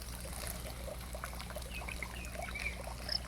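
Fish fry splash and patter at the surface of a crowded round tank covered in duckweed: a faint, continuous watery trickle with small scattered flicks and drips.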